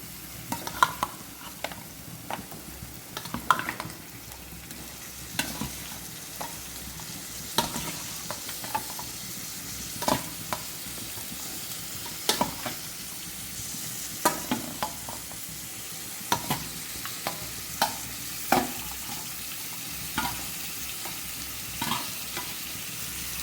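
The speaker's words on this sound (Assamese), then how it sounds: "এতিয়া মাংসখিনি ভাজিব লাগিব।" Pigeon meat sizzles steadily in a hot pan while a utensil scrapes and stirs at irregular intervals.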